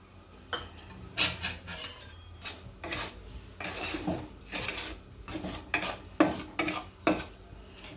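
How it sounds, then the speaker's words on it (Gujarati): A spoon stirs dry semolina (sooji) roasting in a pan, giving repeated scraping and rubbing strokes with occasional metallic clinks, close and fairly quiet. "પહેલાં આપણે સૂજી શેકી લઈશું। એમાં બસ કોરો શેકવાનો છે, કાંઈ નાખવાનું નથી"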